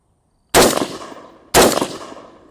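Two sharp, loud rifle shots ring out about a second apart, fired semi-automatically from a prone position on a bipod. Each crack trails off into a short, fading echo, and no voices are heard.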